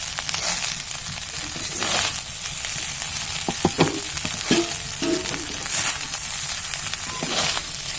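Fried rice cooking in a hot pan on a home stove: a steady loud sizzle runs throughout, with scraping stirs and a few sharp clinks of the utensil against the pan, close up and with no talking.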